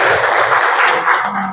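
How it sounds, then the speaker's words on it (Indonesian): A classroom of students claps for a classmate during a teacher training open class, loud, dense and continuous clapping filling the room for a moment before fading slightly. "tepuk tangan untuk Naila"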